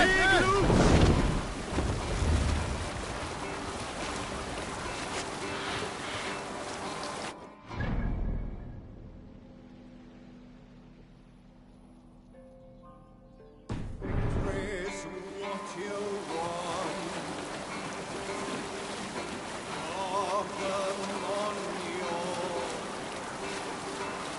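A longship in Assassin's Creed Valhalla out on open water, wind and waves rushing loudly around it, dropping to near quiet for a few seconds midway before the sea noise returns, with voices talking over parts of it.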